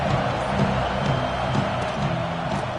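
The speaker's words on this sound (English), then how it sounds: "This crowd ready to make its presence known." Crowd at a UCLA versus Mizzou college football game, a dense, continuous roar of cheering that holds steady throughout the short stretch.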